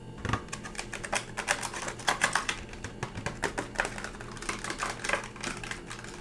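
A knife slices strawberries close up in an ASMR kitchen setting, making a rapid, crisp series of taps and cuts that carry on steadily, with no talking.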